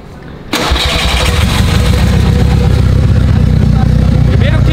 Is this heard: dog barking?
no